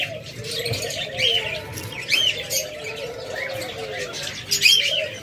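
Big-size pet birds at an aviary sale, doves and cockatiels, fill the air with overlapping coos, squawks and bright chirps, close and continuous with occasional wing flutters.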